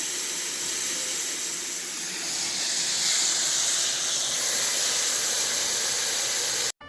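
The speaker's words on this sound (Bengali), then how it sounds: "মাছগুলো হালকা করে ভেজে নেব।" Bagda tiger prawns fry lightly in hot oil in a pan, giving a steady, even sizzling hiss that holds for several seconds and then cuts off abruptly near the end, with no voices.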